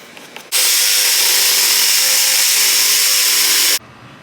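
A power tool cuts through a Chevrolet Silverado truck door panel in one loud, continuous, close-up burst lasting about three seconds, starting and stopping abruptly with no talk.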